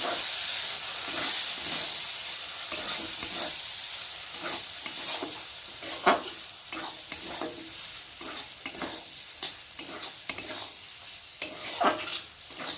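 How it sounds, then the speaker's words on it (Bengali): Pasta sauce with soy sauce being stirred in a hot pan, a constant sizzle and hiss broken by repeated scraping strokes of the spoon, close and moderately quiet, with no voices. "আর দিয়ে দেবো সোয়া সস। দিয়ে ভালো করে একটু নেড়ে নেব।"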